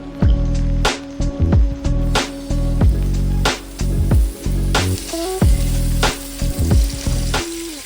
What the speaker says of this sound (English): As soon as that chicken hit the pan, it was such a good sizzle